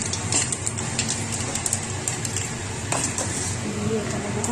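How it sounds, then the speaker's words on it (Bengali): Nigella seeds tempering in hot oil left over from frying fish, a dense, steady sizzle and crackle up close, with faint clinks of a utensil against the pan. "ওই মাছের তেলের মধ্যেই কালো জিরে অল্প কথা কালো জিরে ফোড়ন"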